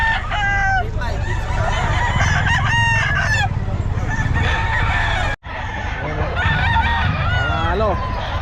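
Chickens and roosters at the Bocaue pet market crowing repeatedly and clucking close by, several birds overlapping with loud, raspy calls, while people talk in the background of the busy market.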